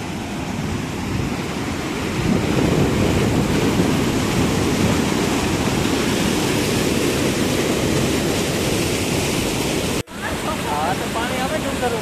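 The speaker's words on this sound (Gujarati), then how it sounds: "અહીંયા પાણીની નદી છે તો બતાવું જરાક" A clear hill-fed river in an English village rushes steadily in a loud, broad wash of water noise with some wind buffeting, briefly cutting out near the end before resuming.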